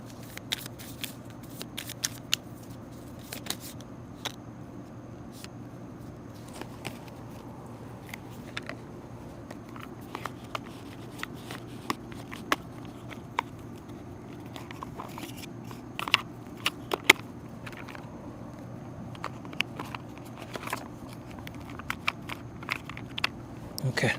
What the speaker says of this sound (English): if nothing comes out after the next couple rounds of this here dry shuffle